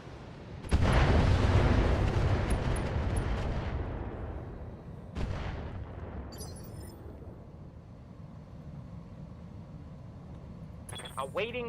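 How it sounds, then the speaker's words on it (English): Mech missile fire in a video game battle against an 80-ton Charger mech: a heavy booming launch and rumbling blast that fades slowly, then a second thud, with radio chatter and faint electronic blips. "Start peppering the charger with missile fire."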